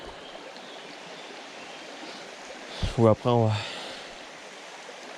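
A small mountain stream in the Jura rushes in a constant broadband wash of flowing water, with a person briefly speaking over it near the middle.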